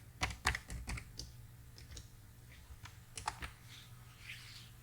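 Quiet typing on a computer keyboard while entering Python code, with quick bursts of clustered key clicks separated by pauses.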